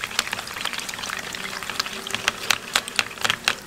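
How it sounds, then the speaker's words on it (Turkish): Egg-based börek filling mixture being whisked in a bowl, a quick irregular patter of light wet clicking and sloshing, close and fairly quiet, with no talking. "Şimdi hepsini birlikte bir güzel çırpalım."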